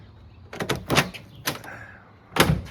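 Citroen C3 car door with a bad latch being forced open with a metal rod: a few sharp metallic knocks and clunks in quick succession, then a pause and one final loud clunk as it gives, close up.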